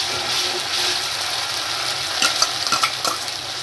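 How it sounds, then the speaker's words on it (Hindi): Garlic, ginger and green chili paste frying in browned onions in a pan, a soft steady sizzle with a few sharp scraping stirs of a utensil toward the end. "अब इसमें लहसुन अदरक हरी मिर्च का पेस्ट डाल रही हूँ।"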